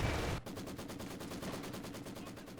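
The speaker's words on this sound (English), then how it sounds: "MG opening fire." Sustained machine-gun fire from a Company of Heroes 2 battle erupts after a brief lull, a steady rapid rattle of evenly spaced shots at moderate distance lasting over two seconds, with no talking.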